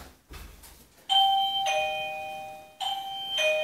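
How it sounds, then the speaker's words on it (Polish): An electronic doorbell plays its chime twice, clear ringing tones with pauses between, after a few soft knocks at the start. "Czy ja słyszałem, że ktoś nacisnął dzwonek?"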